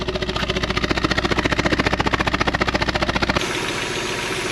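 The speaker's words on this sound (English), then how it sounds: "Definitely sounds a lot quieter, but definitely got a misfire." A Mazda MX-5 Miata engine idles with a misfire, giving a steady, close, fairly loud pulsing run with a slightly uneven beat that shifts to a lower, quieter hum near the end.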